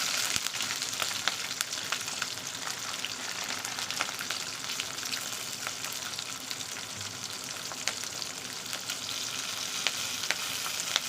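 Garlic and green chillies fry in hot oil in a pan, giving a steady, soft sizzle and crackle with small pops throughout, with no voices.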